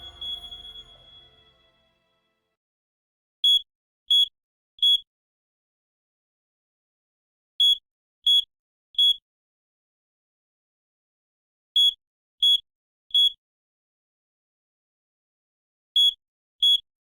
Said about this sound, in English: Don't be alarmed. It's beeping.